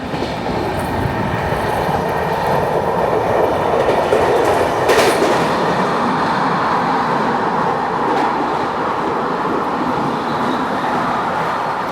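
The Vidarbha Express, train 12106, passes through Kurla station without stopping, heard from on board as a loud, continuous rumble of wheels on rail with rhythmic clickety-clack throughout.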